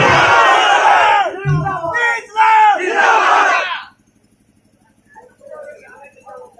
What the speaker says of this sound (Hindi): नारे तकबीर।